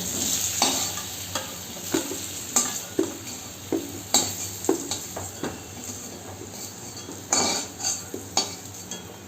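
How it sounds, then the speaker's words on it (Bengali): Potatoes fried with salt and turmeric are stirred in a pan, giving repeated close scraping and clinking utensil strokes over a steady sizzle, with no voices. "আমার আলুগুলো ভাজা হয়ে গেছে, এগুলো আমি নামিয়ে ফেলবো।"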